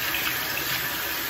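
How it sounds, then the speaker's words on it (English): Water runs steadily from a tap while hands are washed at a sink, a constant close, hissing splash with no pauses or voices. "Wash your hands first, because you're gonna be dealing with your face."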